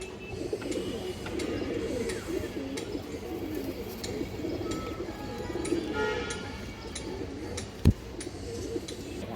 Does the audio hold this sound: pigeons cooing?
yes